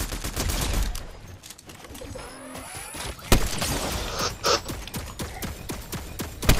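Dense Fortnite gunfire crackles in rapid bursts and sustained automatic fire, loud and close, with a sharp louder shot partway through and continuous battle noise throughout.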